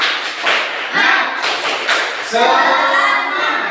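Schoolchildren in an Indonesian classroom perform a rhythmic spirit clap, several quick bursts of claps and slaps in a patterned beat, close and fairly loud, with some voices mixed in.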